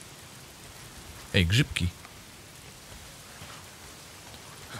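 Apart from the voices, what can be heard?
rain falling in a video game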